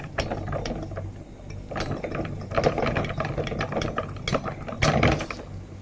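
A hand pump pressurises the fuel tank of a Coleman 533 stove, making a close, loud series of repeated mechanical strokes with squeaky, clicking plunger sounds in an uneven rhythm.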